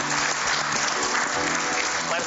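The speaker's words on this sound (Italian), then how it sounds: "un applauso a Solange" A studio audience on a local TV show applauds a performer, with dense continuous clapping for a couple of seconds and faint voices underneath.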